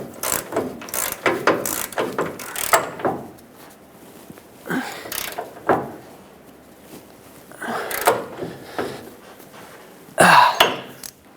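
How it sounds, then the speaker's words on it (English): A hand ratchet tightens the pitman arm mounting nut on a Ford E-350 van, a series of close, crisp clicking bursts in uneven strokes with short pauses between them. "Start these on, and let's tighten things up."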